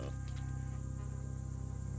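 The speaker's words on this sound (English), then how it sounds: "what glittering prize has lured these rubber-necked stink bugs and bees to this glue?" Stink bugs and bees clustered on glue in the Shadows over Loathing video game: a steady, close insect buzz with a fast rhythmic pulse, continuous and fairly loud, with no voices.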